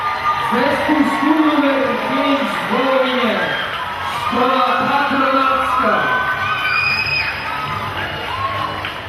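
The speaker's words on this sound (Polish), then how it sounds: "Wielkie brawa jeszcze raz!" An audience at a school sports-field opening ceremony applauds and cheers, children shouting and whooping in bursts over steady clapping, loud and close, with voices throughout.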